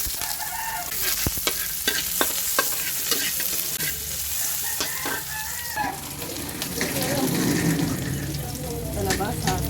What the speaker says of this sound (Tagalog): Tapos magigisa na tayo ng gulay